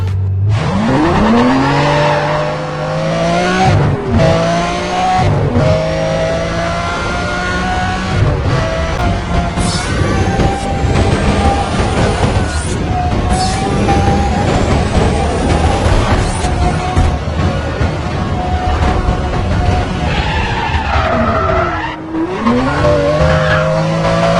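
A Lamborghini Estoque concept with a 5.2-liter V10 races in Need for Speed World, its engine roaring and shifting through gears, with squealing tires and skids, loud and continuous throughout.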